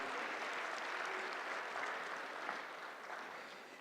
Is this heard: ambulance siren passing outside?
no